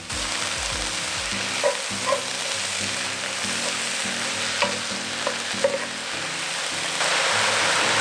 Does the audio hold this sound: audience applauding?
no